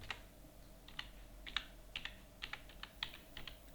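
Fingers type on a computer keyboard, a short, uneven string of light clicking keystrokes, close but faint over a low steady hum.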